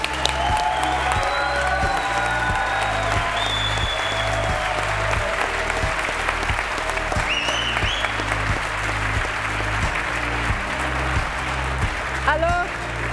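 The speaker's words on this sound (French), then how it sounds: "ils méritent un tonnerre d'applaudissements" An audience at the SVC Geneva 2025 awards evening applauds, a sustained thunder of clapping layered with a rhythmic music bed and a brief whoop near the end.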